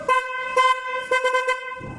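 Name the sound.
car horn honking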